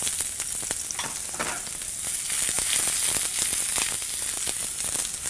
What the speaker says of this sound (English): We're going to start sauteing some nice onions.